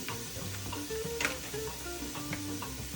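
Pancetta, four ounces, frying in a heated pan with a steady soft sizzle throughout, a few faint clinks and stirring sounds over the crackle.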